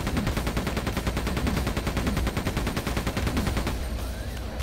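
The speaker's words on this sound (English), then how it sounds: "Oh, machine guns are awesome." Sustained automatic machine gun fire from the Quake II video game, a rapid, evenly spaced burst of shots running loud and close for about four seconds before cutting off into quieter in-game ambience.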